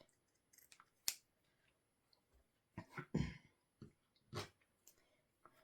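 Scissors trimming fabric for a fabric-flip journal page, heard as a few crisp, close snips and small handling clicks spread across a quiet background, with no voices.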